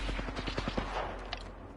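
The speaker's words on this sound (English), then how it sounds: "The enemies are shooting at me." Rapid bursts of automatic gunfire in the Apex Legends battle royale shooter, a quick run of close, sharp shots and then a few scattered pops as the fight fades.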